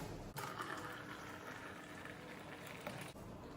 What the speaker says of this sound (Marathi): आता यामध्ये आपण थोडंसं थंड पाणी घेऊया.